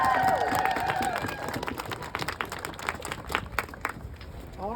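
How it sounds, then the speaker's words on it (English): Audience applauding for Food Not Bombs at an International Women's Day rally, a scattered round of claps and cheers that starts louder and thins into sparser hand claps, with a voice briefly over the start. "Let's give them a huge round of applause for them"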